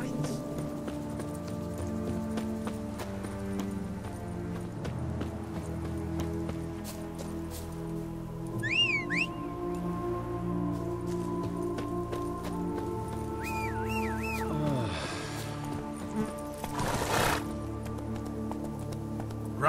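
Hooves of Roach, a horse in The Witcher 3, clop steadily at a run over continuous background music and ambience, with a voice speaking over it.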